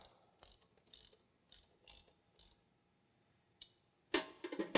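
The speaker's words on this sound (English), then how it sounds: "So we can tighten all these bolts up. Again, it takes a 1/2 inch wrench on the bottom of the gearbox." A ratchet wrench tightens bolts on the gearbox bearing of a Wood-Mizer LT40/LT50 sawmill, giving several short clicking bursts in a quiet space, then a longer, louder run of ratcheting at the end.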